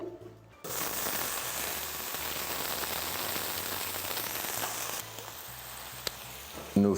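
Trout fillets fry skin side down in butter in a pan, a dense, close crackling sizzle that starts abruptly, runs steadily for several seconds, then eases to a quieter sizzle.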